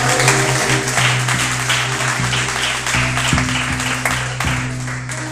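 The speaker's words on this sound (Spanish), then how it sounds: "¿alguien le puede dar un aplauso al Señor?" Congregation applauding at a church service, a steady wash of clapping from many hands with a sustained organ or keyboard tone droning underneath throughout.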